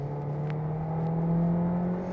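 A Hyundai Tucson petrol engine with a 6-speed automatic accelerates at full throttle, giving a steady, rising engine drone and whir heard from inside the car, moderately loud and continuous, with no talking.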